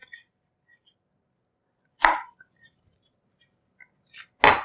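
A knife cuts lengthwise through cabbage for kimchi, two sharp crisp chops about two and a half seconds apart, with a few faint small clicks in between in an otherwise quiet kitchen.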